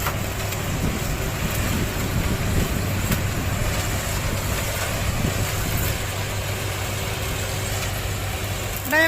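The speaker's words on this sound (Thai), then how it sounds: "ขณะนี้นะท่านกำลังอยู่กับ รถไถคันใหญ่" Large farm tractor idling steadily in a sugarcane field, a constant low engine rumble with a dense broadband drone that stays at even loudness throughout, with no talk over it.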